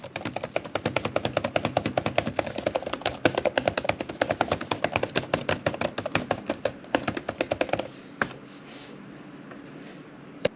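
Fast, continuous clatter of typing on a Dell Precision 7760 laptop keyboard, close and crisp, for about eight seconds before stopping, leaving a faint hum.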